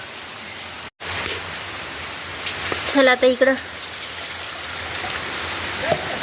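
Steady rain hisses throughout, with a short spoken phrase in the middle and a brief dropout near the start.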